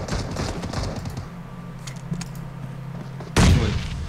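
Gunfire rings out in a PUBG Mobile esports clan war match, with rapid bursts of shots, bursts of impacts and one louder, heavier blast near the end.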